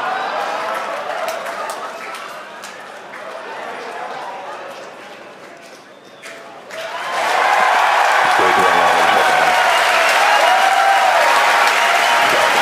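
Crowd at a SpaceX Falcon 9 SSO-A launch breaks into loud, sustained cheering and applause as the booster lands, rising sharply partway through after quieter broadcast talk.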